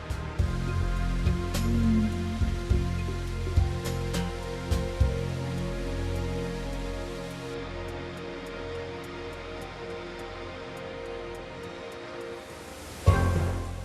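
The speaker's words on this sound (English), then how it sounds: "the high-pressure water lance is moved automatically into the crucible and starts with the cleaning" A high-pressure water lance at about 700 bar cleans the inside of a crucible mold with a continuous hissing, rushing spray. Scattered clanks run through it, and a sharp burst comes near the end.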